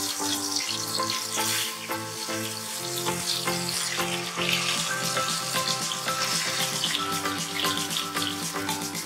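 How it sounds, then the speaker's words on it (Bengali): Marinated eggplant slices fry on a low flame in a little oil, giving a continuous, close crackling sizzle with light bubbling that holds steady throughout, with no talking. "এবার একেবারে লো ফ্লেমে বেগুনগুলো দিয়ে দেব, আর আমি অনেক অল্প তেল।"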